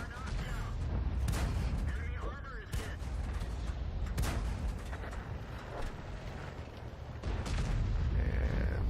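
Artillery shells landing in a tank battle video game, heavy booms and rumbling blasts repeating over a dense steady battle din, with a voice faintly under it.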